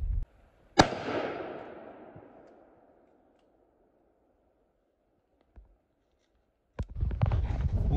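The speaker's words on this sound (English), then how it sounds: "the gun that we're going to be using is the Diamondback AR-15, and the ammo we're going to be using, like I said, is Winchester green tips" A Diamondback AR-15 fires Winchester green tip 5.56 ammunition at a steel I-beam outdoors. One sharp, loud report rings out with a long, fading tail, followed by silence and then a burst of nearby rustling noise.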